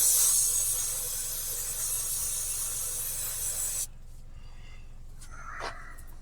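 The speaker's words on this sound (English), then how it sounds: "new bottle of brake clean here, kind of clean this old fuel pump off" Brake parts cleaner sprays in a loud continuous hiss onto an old, dirty fuel pump from a vehicle that sat for over 25 years. The spray cuts off abruptly partway through, leaving quieter handling noises and a brief scrape.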